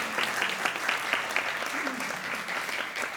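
An audience at a food writing award ceremony applauds, a steady crowd clapping that holds at even strength throughout with no pause.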